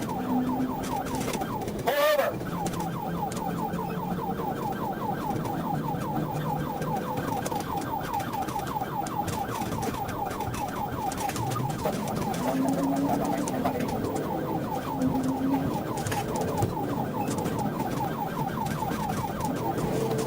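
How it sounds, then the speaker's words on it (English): A police car siren wails in a continuous rapid yelp during a highway pursuit, steady and fairly loud over engine and road noise, with a brief sharp burst early on. "When the trooper activated lights and sirens, the suspect failed to stop, initiating a pursuit."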